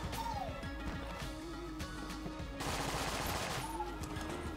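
Rapid bursts of gunfire loaded with shock rounds in Enter the Gungeon, sharp crackling shots and impacts firing in quick clusters, with a louder dense crash partway through over steady background game sounds.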